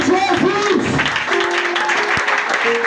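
A church congregation at French-language worship applauding and cheering, loud crowd clapping mixed with shouts and voices throughout.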